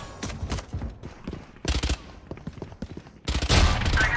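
Shotgun blasts in Valorant on the Icebox map, several sharp broadband booms in bursts separated by short pauses, loud and close amid game effects, with no talk.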